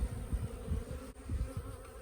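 A dense, steady buzz of many honeybees close by in an open hive during an inspection, a low droning hum that pulses slightly, with no voices.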